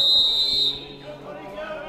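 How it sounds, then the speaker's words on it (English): A referee's whistle at an over-60s England versus Netherlands hockey final gives one shrill, sustained peep, close and loud, then cuts off as crowd noise and play continue. "That's a serious peep of the whistle"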